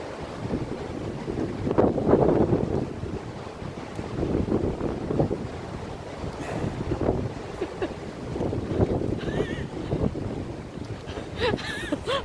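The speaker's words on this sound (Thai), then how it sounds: "ลมแรงนะท่านผู้ชม ลมแรง" Strong outdoor wind buffeting the microphone in Cambridge, England, a continuous loud rumbling roar that swells and eases in gusts for the whole stretch, with no talking.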